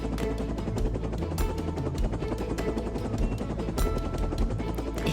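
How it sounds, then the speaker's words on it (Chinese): A cartoon transport helicopter flies in carrying a roof, its rapid, steady rotor chop loud and close, layered with busy background music. "运输直升机把屋顶运了过来。"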